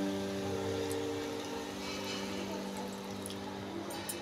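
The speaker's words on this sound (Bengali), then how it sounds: "আর সঙ্গে কিছুটা জল অ্যাড করে দেবো।" Water poured into a cooking pan holding prawns and banana flower, a steady moderate wash with a low hum beneath, continuous throughout.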